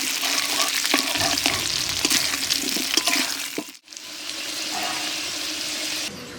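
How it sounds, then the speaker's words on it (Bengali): Potatoes fry in oil with salt in a pan, producing a loud, steady hiss with crackles and stirring knocks that briefly cuts out before resuming. "আলুটা হালকা লাল লাল করে আমি ভেজে নেব"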